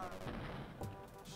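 A chain gun fires during a boss fight in the video game Wolfenstein 3D, producing a quiet, rapid burst of low, crunchy gunfire that runs steadily throughout the brief clip.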